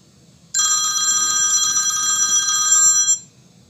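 A telephone rings with a steady electronic trill lasting about two and a half seconds, loud and close, then stops, with no talking over it.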